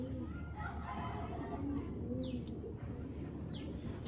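A large female giribaz pigeon in a loft, giving low, repeated throaty coos near the listener, with a few higher chirps from other birds in the background.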